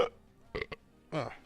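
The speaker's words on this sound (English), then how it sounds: "Oh, gross burp." A single gross burp from a person at a Rocket League esports watch party, a short low voiced belch standing out between brief bits of nearby talk.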